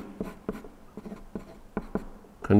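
A pen scratches across a tabletop while drawing a tic-tac-toe grid and marks, short quick strokes arriving in irregular bursts, close and fairly quiet, ending in a louder scrape.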